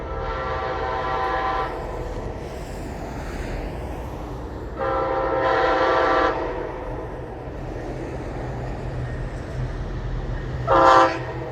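An Amtrak Auto Train arriving at Palatka, Florida, with a steady rumble of rolling cars and a loud multi-tone horn sounding in long blasts, followed by a short sharp blast near the end.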